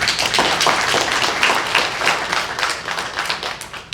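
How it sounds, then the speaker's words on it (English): A round of applause greets graduates of a free degree program at a press briefing; brisk clapping from a modest group, loudest at first, then thinning and tapering toward the end. "Please give them a round of applause."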